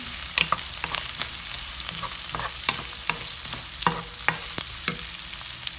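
Carrots fry in a pan for chicken curry, with a steady close sizzle broken by frequent sharp clicks and scrapes of a spoon stirring them.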